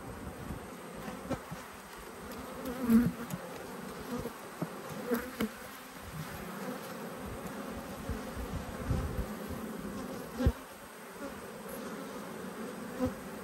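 Italian honey bees buzz around an open hive, a dense, steady swarm drone close by with individual bees flitting near and away, no voices heard.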